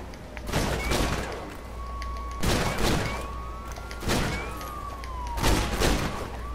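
Henchmen firing guns in the LEGO DC Super-Villains video game, with repeated bursts of blaster fire arriving in four loud clusters about every one and a half seconds, set against a steady low hum.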